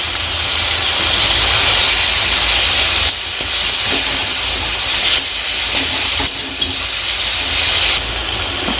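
Ginger and garlic paste sizzles and hisses steadily in a hot pan, a loud, dense frying hiss running throughout with brief surges and dips in intensity.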